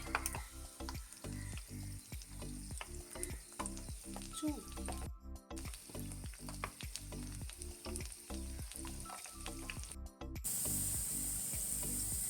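Potato rolls fry in hot oil, giving a close, continuous bubbling sizzle broken by two brief silent cuts, with faint clicks and scraping from handling in the pan.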